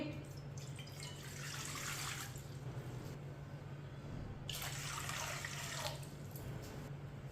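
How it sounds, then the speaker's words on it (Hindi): Water pours in two bursts into a cooking pot for making sharbat, splashing briefly, then a pause, then pouring again, over a low steady hum. "2 गिलास पानी डालेंगे।"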